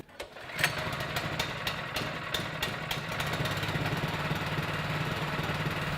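Baumr-AG 4-stroke engine pull-started with a recoil cord: a few quick pulls and ticks, then the engine catches and runs at a steady, close idle with no talk.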